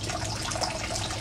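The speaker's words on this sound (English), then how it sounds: "the water is running through the towers and then it drips down into these gutters that we have built" Water flowing through vertical aquaponics towers on a solar-powered farm and dripping into built gutters, a brief steady splashing trickle, fairly quiet and continuous.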